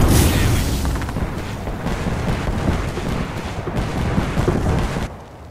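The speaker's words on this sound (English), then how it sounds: "Shooting the frag." A frag grenade detonates in the Apex Legends video game: a loud, booming blast followed by a rumbling decay that fades out over a few seconds.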